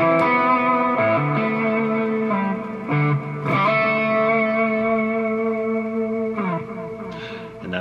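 An electric guitar plays a descending lick from a solo, sustained distorted notes stepping downward with effects, clear and alone with no talking.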